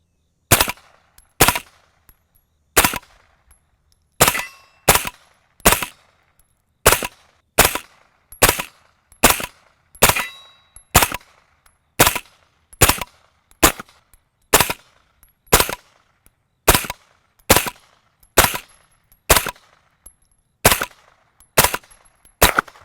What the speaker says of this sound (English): It's an integrally suppressed 9mm from Arms.